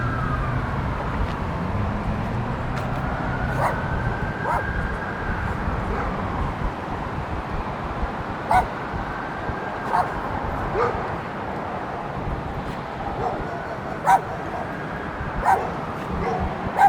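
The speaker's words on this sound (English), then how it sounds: "Look at the dogs." Dogs bark and yip repeatedly at a dog park along the East River greenway in New York City, sharp intermittent barks over outdoor city noise with a siren wailing in the distance.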